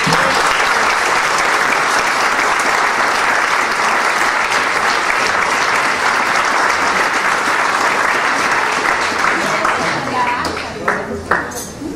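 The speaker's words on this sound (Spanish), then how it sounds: "Les pido un aplauso." Guests at a golden wedding anniversary celebration break into loud, sustained applause, a thick steady clapping that thins out and tapers near the end.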